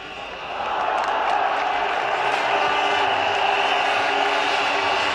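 Spectators at a 1999 Cricket World Cup semi-final between Pakistan and New Zealand swell into a loud, sustained roar of cheering after a boundary, rising within the first second and holding as a dense crowd wash.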